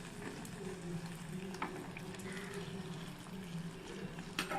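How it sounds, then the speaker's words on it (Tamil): Adhirasam, sweet rice-flour cakes, fry in oil with a soft, steady bubbling sizzle, fairly faint and even throughout, with a few small pops. "இதே மாதிரி எல்லா அதிரசத்தையும் சுட்டு எடுத்துக்கலாம்"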